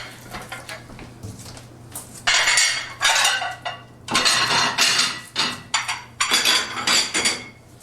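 In a vacation rental kitchen, dishes, pots and cutlery are unloaded from a dishwasher and put away: repeated loud clinks and clatters of ceramic and metal in irregular bursts, close by, over a faint steady hum.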